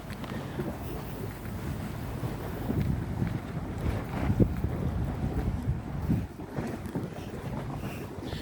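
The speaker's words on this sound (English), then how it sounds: "Hear the water slapping." River water sloshes and laps steadily against a boat hull, mixed with gusty wind rumble on the microphone, continuous and fairly loud with no talking.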